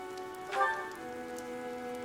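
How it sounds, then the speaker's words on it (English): Heavy rain in Fire Emblem Three Houses hisses steadily as a soft, continuous wash beneath sustained background music tones, with a brief swell partway through. "The rain is really coming down now."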